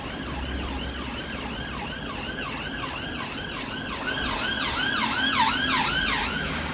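A wailing emergency vehicle siren passes along a busy blue-light road, its rising and falling sweeps repeating steadily and growing louder toward the end as it draws nearer over traffic rumble.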